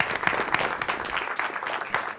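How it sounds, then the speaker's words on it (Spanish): An audience at a talk applauds, a dense wash of clapping hands filling the room, steady and moderately close for a couple of seconds with no voices on top. "Muchas gracias por los aplausos."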